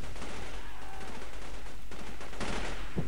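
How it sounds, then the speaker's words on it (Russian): Bursts of gunfire in an online shooter game, rattling in broad noisy volleys with a couple of sharper shots near the end, busy and fairly loud throughout, without clear speech over it. "кто-то стреляет, где-то стреляет, а я не вижу, никого не вижу вообще"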